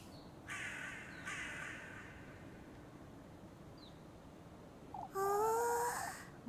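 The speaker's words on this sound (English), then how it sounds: "Oh, There's so many crows." Crows caw in a video game, a few harsh calls early on over a low ambient hum, then a louder, closer burst of several cawing crows near the end.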